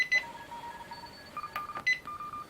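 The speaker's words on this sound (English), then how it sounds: "If I press that on, the beep is on now." Short electronic beeps from a Tecsun S2000 radio, sounding each time a front-panel button is pressed, several separate tones spread across a couple of seconds against a faint hiss.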